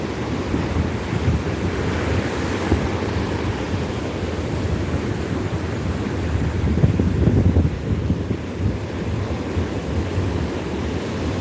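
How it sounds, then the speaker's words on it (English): Open sea waves off the Channel Islands, California, form a continuous broad wash of surf mixed with heavy wind buffeting the microphone, swelling slightly near the middle, with no voices. "You're looking at the open sea from Channel Islands, California, USA."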